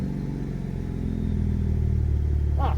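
RAM 1500 Hurricane pickup with a Flowmaster Signature Series catback exhaust idles close by, a steady low rumbling burble holding even throughout the short stretch.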